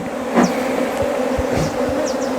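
Honey bees buzz close around their hive on a medicinal honey farm, making a steady droning hum. A few louder passes stand out as individual bees fly near.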